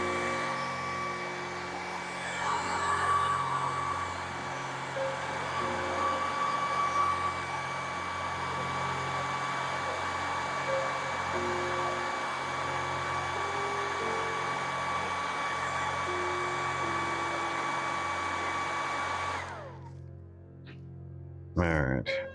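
A heat gun dries fresh clear coat on a custom Hasbro Ghostbusters Afterlife Spengler's Neutrona Wand toy, giving a steady, close whirring blow with a fixed tonal hum for about nineteen seconds before cutting off abruptly.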